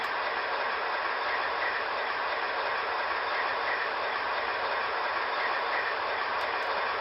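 Steady running of MTH HO scale ALCO FA-1 model locomotives pulling a string of boxcars and reefers, a continuous even rolling rumble with no talking.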